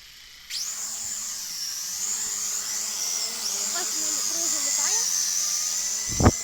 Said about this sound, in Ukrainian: і зараз Савелій буде запускати дрона